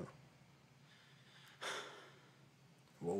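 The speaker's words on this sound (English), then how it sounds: "why are you breathing hard" A character in the horror game Madison breathes hard, with two short sharp gasping breaths standing out against a quiet, low background.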